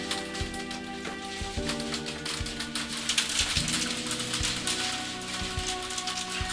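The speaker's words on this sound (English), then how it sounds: "It's storming outside with lightning, thunder, and a lot of rain." Heavy rain from a thunderstorm patters steadily on an outdoor surface, with occasional heavier knocks. A faint tonal hum sits underneath, and no thunder stands out.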